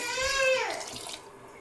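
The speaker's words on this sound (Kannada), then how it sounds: "ನೀರು ಹಾಕ್ಕೊತೀನಿ." Water poured into a cooking pot holding squeezed tamarind juice for a mutton gojju, a steady close splashing pour that trails off after about a second.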